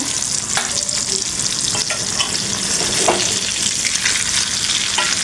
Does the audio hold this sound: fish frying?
yes